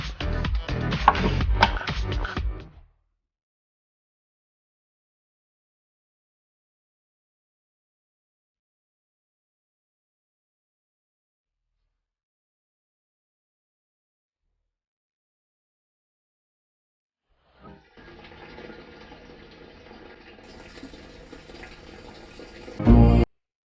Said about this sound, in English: You pour the fuel in this way, and that way it won't glug.